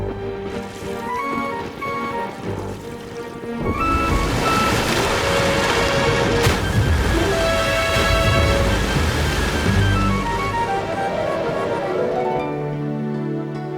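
Sea waves washing around a ship in a cartoon, a broad rushing surge that rises sharply after a quieter musical opening and continues under the music.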